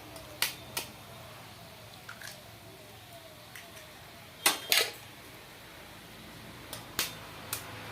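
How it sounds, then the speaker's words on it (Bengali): Two eggs are cracked into a bowl with sharp, close taps and cracks in a few quick pairs, separated by quiet pauses. "এতে দুটো আমি ডিম ফাটিয়ে দিচ্ছি"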